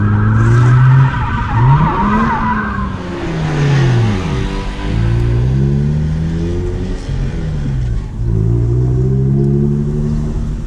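A stock Mazda RX8 with its rotary engine drifts as the tires squeal and skid in long, wavering whines over a loud, droning engine note, heard close from inside the car.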